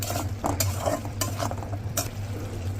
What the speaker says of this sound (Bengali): তারপরে এখানে সবকিছু মশলা দিয়ে ভালো করে কষিয়ে নেব